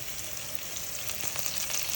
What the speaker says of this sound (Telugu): ఇవన్నీ ఫ్రై చేసుకోవాలి. మరి ఆనియన్ ఎక్కువ ఫ్రై అవసరం లేదు, కొంచెం ట్రాన్స్పరెంట్ అవ్వాలి.